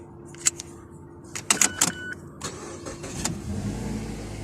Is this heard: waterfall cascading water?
no